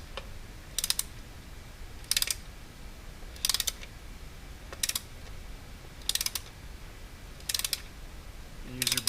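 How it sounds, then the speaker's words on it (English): A 1/4-inch torque wrench set to 6 Nm tightens coil packs on an Aston Martin DB9 engine, giving seven short, crisp clicking bursts at roughly even intervals over a low steady background, close and moderately loud. "I'm going to switch over to my 1/4" torque wrench, which I have set to 6 Newton meters."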